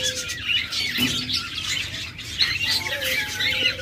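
A pair of high-mutation cobalt pet birds squawks and chirps nearby in sharp, irregular calls, with brief pauses and a scatter of fainter tweets behind.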